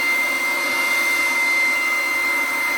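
LIGO 20V cordless brushless leaf blower on its turbo setting, a loud, steady high-pitched whine with a strong rushing airflow roar that holds constant throughout, close up and alone.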